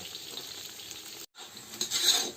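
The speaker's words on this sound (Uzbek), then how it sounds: "Mana bu ozgina qizartirib uni pishirishimiz kerak" Potatoes fry in a pan with a close, steady hiss and crackle that briefly drops out, then returns louder with bright pops.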